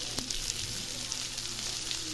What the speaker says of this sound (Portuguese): Agora eu diminuí para fogo baixo, porque tava fritando muito rápido.